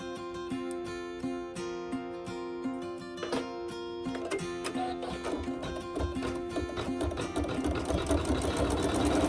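A Navigator embroidery sewing machine stitches fabric with a rapid, even mechanical chatter, steady and close, growing slightly louder and denser toward the end.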